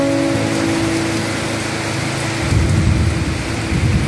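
A heavy summer rainstorm in Ninh Thuan, Vietnam, with dense rain pouring down and a deep rumble of thunder swelling up partway through, loud and continuous with no talking.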